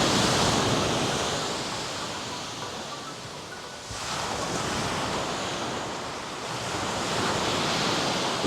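Steady roar of sea waves breaking on Boston Beach in Portland, Jamaica, a continuous close wash of surf with gentle surges and some wind buffeting the microphone.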